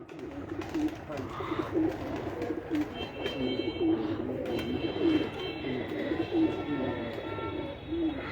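Fancy Teddy pigeons cooing in a keeper's loft; a regular, rhythmic low cooing repeats throughout, close by, with people talking over it.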